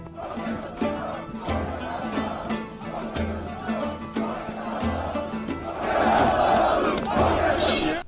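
A tribal crowd chanting long-live slogans for Aslihan and Turgut, rhythmic massed shouts repeating in waves, swelling louder toward the end.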